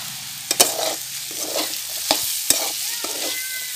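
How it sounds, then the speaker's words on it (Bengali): Taro flower stalks sizzle in a pan with chili powder while a spatula scrapes and stirs in several sharp strokes, with a soft frying hiss underneath. "এইভাবে 5 থেকে 7 মিনিট এখনও ভাজতে হবে।"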